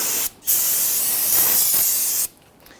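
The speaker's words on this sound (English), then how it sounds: "Let's go ahead and spray that down with some solvent to clean up any of that fluid." A close, steady hiss of solvent sprayed from an aerosol can onto a Ford Taurus front brake caliper, one continuous burst of about two seconds.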